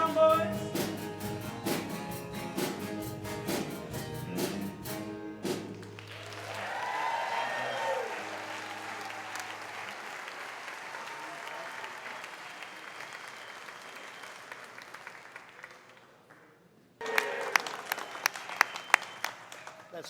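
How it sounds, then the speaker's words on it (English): At a small-town Lions Club minstrel show, an audience breaks into applause after the band's last notes; the clapping swells, then thins and fades before music and a voice return. "was a little applause, wasn't it?"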